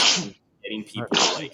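One sharp, loud sneeze bursts out at the start, then a short stretch of someone talking, with a second breathy burst following right after his words.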